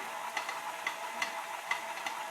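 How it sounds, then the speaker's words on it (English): A stand mixer on low speed beats warm French cruller dough, making soft rhythmic knocks roughly twice a second over a steady whir, close by. "I'm gonna put this in the mixer, and I'm gonna beat at low speed for a minute just to cool down the dough"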